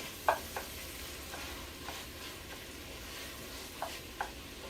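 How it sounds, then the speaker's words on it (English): Sausage frying in a pan for dirty rice, a soft steady sizzle with a few faint crackles and pops, quiet and close with no talking. "the sausage is cooking"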